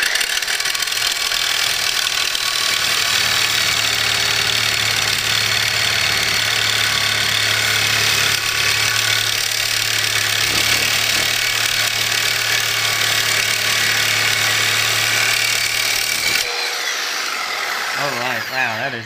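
A reciprocating saw with a bi-metal or carbide blade buzzes and rasps steadily through material for about sixteen seconds, loud and close, then cuts out abruptly, leaving brief faint noise and some talk.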